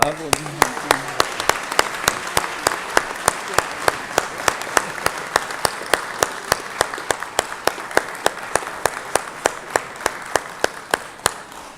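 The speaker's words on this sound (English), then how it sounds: "let's give them a round of applause here" Applause from the audience in a legislative chamber during a 2024 Georgia legislative session day, welcoming Georgia National Guard guests: a steady wash of many hands clapping with sharp claps on top, loud and sustained throughout.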